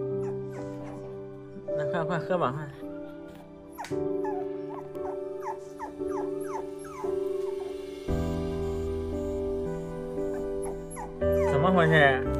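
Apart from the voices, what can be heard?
puppy whining and barking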